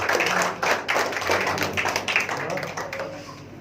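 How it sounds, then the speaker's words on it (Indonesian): Church congregation at a worship service clapping together in a dense, lively burst of hand claps, loud and close at first and then thinning and settling over a few seconds, with no talk over it. "Tepuk tangan yang meriah buat Tuhan."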